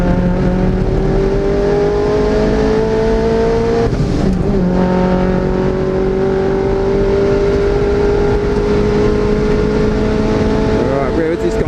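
Racing-game car engine held at full throttle, a steady high-pitched whine that climbs slowly through the gears with a brief dip partway, loud and continuous under occasional speech.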